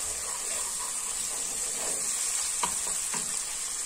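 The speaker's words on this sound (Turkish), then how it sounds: "Şimdi içerisine 1 yemek kaşığı biber salçası, 1 yemek kaşığı da domates salçası ilave ediyorum. Bunları da birazcık kavurmak istiyorum." Pepper paste and tomato paste fry in a pan with a soft, steady sizzle and hiss, broken by a few light scraping stirs near the end; quiet and close with no talking.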